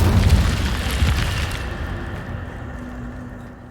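An Incendio fire spell from the Hogwarts Legacy video game goes off as a loud, close burst with crackling booms for about a second, then fades into a low fiery rumble.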